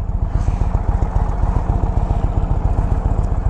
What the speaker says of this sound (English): This bike sounds so much better than the other one because of the mufflers.